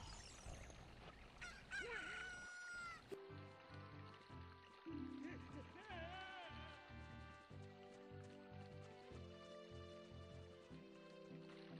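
A chicken crows in a Zelda video game, the cock-a-doodle-doo and clucks heard over layered game music with chiptune-like tones throughout.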